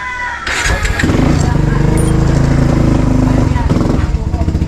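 Motorcycle engine finally catching after failing to start, sputtering briefly then settling into a loud, steady idle with a throbbing rhythm close by, people talking over it.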